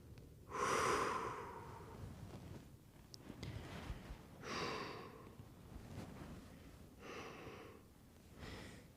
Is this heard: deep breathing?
yes